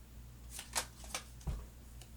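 Tarot cards are shuffled close by in a quiet room, three or four soft papery riffles and flicks spaced out over a couple of seconds, faint and unaccompanied.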